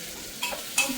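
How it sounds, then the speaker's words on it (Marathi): Tempering and frying for phodnicha bhaat, Marathi tempered rice, in a home kitchen: a faint sizzle with two brief sharp spatters or stirring scrapes, close by and without talk. "आता हे बनवायला लागल्या फोडणीचा भात"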